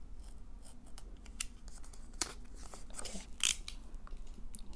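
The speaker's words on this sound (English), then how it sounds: "Just carefully cut the sticker." Scissors snip through a sticker seal on a BTS artist-made collection package, a few short crisp cuts spread among soft rustling and handling of paper packaging, close and fairly quiet.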